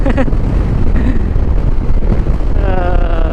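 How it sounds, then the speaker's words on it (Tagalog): Strong seaside wind at Patapat Bridge, Ilocos Norte, buffeting the microphone in loud, rumbling gusts, with voices faintly underneath. "Lakas ang hangin mga tol."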